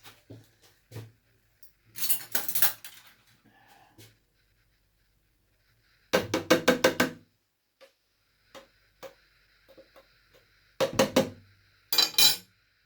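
Turmeric paste being mixed in a pot: intermittent bursts of spoon clinking and scraping against the pot, separated by quiet pauses, close and moderately loud.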